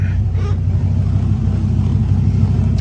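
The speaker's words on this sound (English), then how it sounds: "I'm just going to take you around and have you listen to the engine idling" A 2005 Dodge Ram SRT10 pickup with a Hennessey Venom 650R upgrade idles steadily, its deep, continuous low rumble close and loud throughout without any talk over it.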